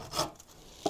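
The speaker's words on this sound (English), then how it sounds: "I'll scrape that bottom off while I'm at it." A tool scrapes the bottom of a wooden beehive honey frame in two short, close rasping strokes, the first longer and the second a quick scrape near the end.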